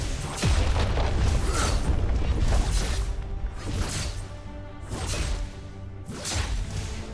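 Heavy booms and crashing whooshes from a turret being destroyed in League of Legends roll over a dense, loud game soundscape, swelling in waves for several seconds.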